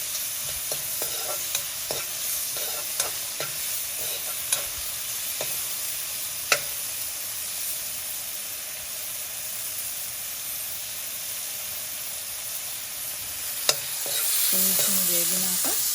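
Drumstick leaves (munagaaku) frying in a pan for a Kadapa-style stir-fry, with a steady close sizzle and hiss throughout and occasional sharp scrapes and clinks of stirring; no voices.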